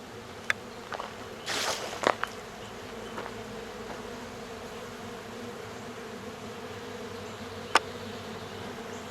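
A wild honeybee colony taken from an old hickory log hums around its hive, a steady outdoor buzz with a louder close pass of bees early on and a few sharp taps.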